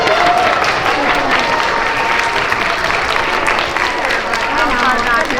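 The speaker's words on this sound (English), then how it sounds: "All right, round of applause" Loud applause fills a school assembly hall for PreK to third grade students, thick sustained clapping mixed with crowd cheering and children's voices, near and unbroken.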